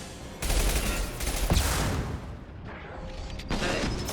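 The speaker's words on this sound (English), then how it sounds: "There are things shooting me from the sides" Sustained bursts of sci-fi gunfire from several directions in Mass Effect Legendary Edition combat, loud and dense, with sharp impacts and brief lulls between volleys.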